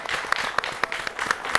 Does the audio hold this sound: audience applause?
yes